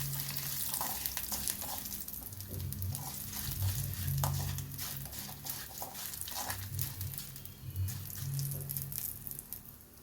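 Hot tempering of spiced oil sizzling and crackling steadily as it is stirred into freshly ground amla (Indian gooseberry) pickle, with a close, continuous fry hiss and low clattering stir sounds throughout, no talking.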